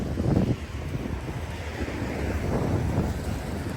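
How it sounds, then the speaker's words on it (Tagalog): Wind on a cold day buffets the microphone outdoors, a continuous low roaring gust with surging swells, loud and close, with no voices. "It's cold. Because it's windy."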